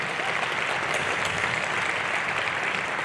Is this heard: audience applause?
yes